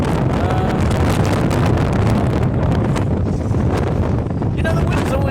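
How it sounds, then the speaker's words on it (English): Strong wind buffets a microphone outdoors, a dense, continuous rumbling roar that never lets up and drowns out everything else. "even though it's windy today"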